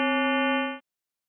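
Synthetic harmonic tone whose second harmonic is stretched to 2.1 times the fundamental, giving a bell-like timbre; a single steady note holds for about 0.8 seconds and then cuts off cleanly into silence.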